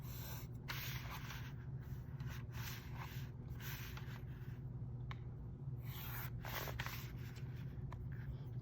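A pencil draws straight triangle lines guided along the edge of a pencil box, giving a continuous faint scratchy rubbing with brief strokes and pauses, close and quiet with no talking.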